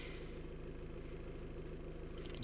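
A Land Rover Discovery Sport HSE Black idles just after a push-button start, giving a steady low engine hum with a faint continuous drone and no speech.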